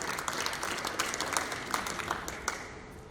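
Studio audience at a spelling competition show in Abuja applauds, a moderate, even wash of clapping with sharper individual claps standing out, fairly distant.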